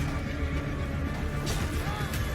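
A horse whinnies amid the clamour of a Bannerlord video game battle, set against a dense, steady wash of combat noise with some hoof clatter.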